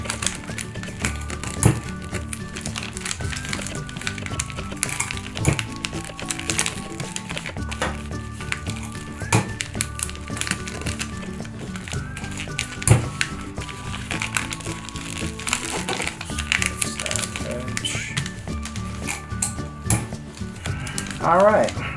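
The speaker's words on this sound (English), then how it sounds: "And then again, I'm just going to use tape lavishly." Wrapping paper is taped generously around a round, circular gift, with steady crinkling of paper, sharp tape pulls and light tapping at close range throughout. Occasional louder handling knocks break up the continuous rustle.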